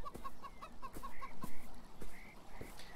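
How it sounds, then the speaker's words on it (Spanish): Chickens cluck in a steady series of short repeated calls in the video game Beyond Eyes, close and fairly clear, with a few brighter squawks mixed in and no talk over them. "Acabo de oír gallinas por ahí."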